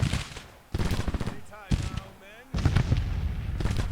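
Artillery and gunfire from the Civil War strategy game Grand Tactician erupt in loud, dense bursts that break off and start again several times. Talk and battlefield voices sound over the barrage.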